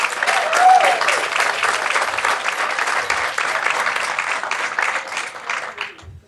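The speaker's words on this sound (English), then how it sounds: "So just one more applause for them." Guests applauding at a senior living ribbon cutting ceremony, a full burst of close clapping with a brief cheer early on, fading out at the end.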